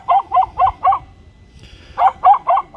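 A dog barks in quick bursts of four, pauses briefly, then barks several more times, close and loud.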